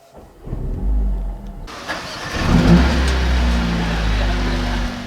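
A 2020 Mercedes CLA 45 S AMG 4MATIC+ engine starts with a sharp crank and loud bark, settles into a deep idle, then revs up briefly before holding a steady low rumble, heard from inside the car.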